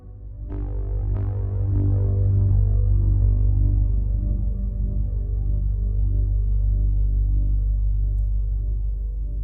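A Roland Phantom synthesizer plays a deep, droning bass-heavy patch with a throbbing pulse, sustained and fairly loud, with a couple of attacks near the start and no talking.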